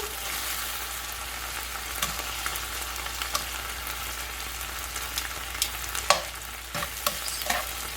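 Cheesesteak meat with onions and peppers sizzling steadily in a pan, a constant hiss with scattered pops and crackles and light scraping as the food is stirred and turned.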